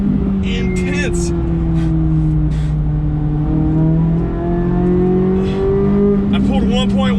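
Chevrolet C8 Corvette Z06 on a race track, a loud sustained engine drone heard from inside the car, pitch sliding up and down with throttle, with brief squeals and faint talk.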